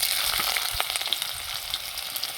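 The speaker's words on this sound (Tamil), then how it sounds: "வெங்காயத்தை வந்து நம்ம நல்லா வந்து வதக்கிக்கலாம்." Sliced onions sizzling in hot oil in a pan at the start of a home-cooked pasta dish: a steady, close, crackling fry with no one talking.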